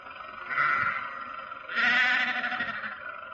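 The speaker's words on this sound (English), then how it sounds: "Confound that man with his sheep. Does he have to take up the entire road?" Sheep bleat on a country road as a radio drama sound effect, two drawn-out, wavering cries in quick succession, clear and fairly close.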